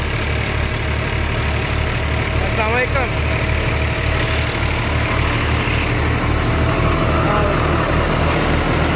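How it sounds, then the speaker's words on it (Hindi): A tractor engine idles steadily beside a model 480 thresher during a millet harvest, a continuous low rumble running throughout, while someone speaks over it briefly. "ये ट्रैक्टर है जी"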